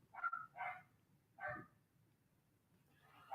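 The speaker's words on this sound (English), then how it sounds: "I'm gonna get to stop the dogs from barking." Dogs bark in the background, three distant yappy barks spaced about half a second to a second apart, then another faint bark at the end, over a quiet room.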